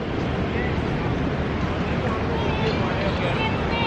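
Athirapally waterfall in Kerala roars as a steady, loud broadband rush of falling water with no breaks, close and continuous throughout.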